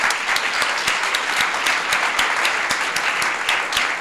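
An audience at a city State of the City address applauds library staff and senior center workers, steady sustained clapping with crisp individual claps standing out nearby, continuing evenly throughout.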